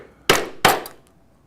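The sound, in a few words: punching holes in leather with a 1/8 inch punch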